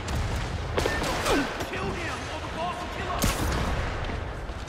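Loud, dense rumbling with repeated sharp bangs and blasts from explosions in the video game Spider-Man Remastered, a noisy explosive barrage with some faint voices mixed in.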